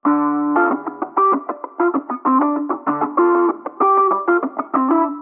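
An electric guitar runs through a pedalboard with an EQ placed at the end of the chain before the room reverb, giving a muffled underwater tone to a quick phrase of clear, repeated picked notes.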